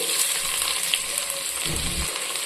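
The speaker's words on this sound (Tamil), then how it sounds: "பெரிய வெங்காயம் நல்ல கோல்டன் ப்ரௌன் கலருக்கு வதங்கி வரணுங்க" Steady, close sizzling of sliced onions frying in hot oil until golden brown for chicken biryani, a constant crackle with a brief stir partway through.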